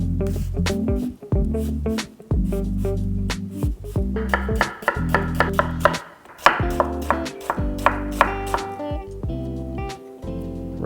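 A knife finely chops red onion on a board in quick, rhythmic taps. The cutting runs steadily under a loud tonal background.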